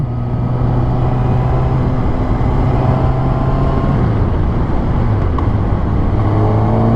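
Kawasaki ZX-6R 636 supersport motorcycle from 2014, cruising in sixth gear around 4,000 RPM: a steady, loud engine drone with a smooth, continuous hum and slight pitch dips, heard up close alongside wind rush, with no talking.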